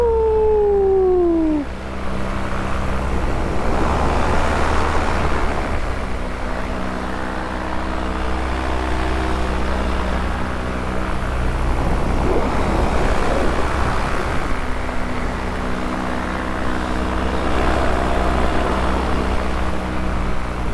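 Paramotor engine held at steady throttle in flight, a constant loud drone with wind rush over it, a brief whistling tone sweeping down early on, no voices.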